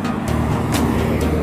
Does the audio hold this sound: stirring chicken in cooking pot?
no